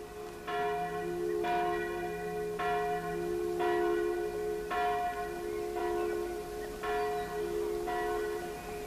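Church bells ring in a steady, repeated peal, each stroke leaving a long resonant hum that overlaps the next, loud and sustained with no talk over them.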